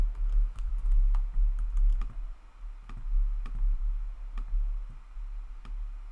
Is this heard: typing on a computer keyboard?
yes